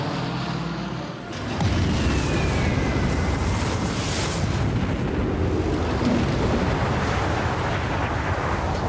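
A nuclear bomb goes off in Civilization VI, a deep low boom after a brief hush, swelling into a sustained roaring rumble that fills the whole clip, loud and continuous with no talk.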